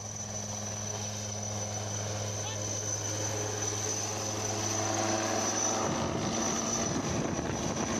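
An Indian Air Force helicopter sitting in a forest near Saharanpur after an emergency landing for a technical fault, its engine giving a steady droning hum with a whining tone that shifts partway through, under a busy background.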